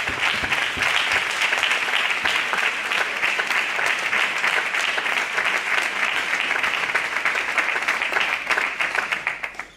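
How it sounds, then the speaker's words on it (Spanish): A church congregation in Zaragoza breaks into strong, sustained applause, dense clapping from many hands that holds steady for about ten seconds before trailing off at the end. "Un fuerte aplauso a esa palabra del Señor que viene."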